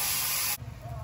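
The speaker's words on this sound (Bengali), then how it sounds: "জল দিয়ে দিলাম।" Water is poured into a hot pan of fried cauliflower, shrimp and ground cumin, giving a loud sharp hiss for about half a second that cuts off to quiet low bubbling.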